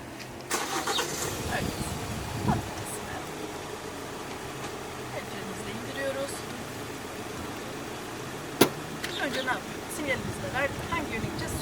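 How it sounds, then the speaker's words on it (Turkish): A Volkswagen Polo's engine turns over and catches, then settles into a low idle inside the car during a driving lesson, with an instructor's voice talking over it. "Arabamızı şöyle bir çalıştırıyoruz."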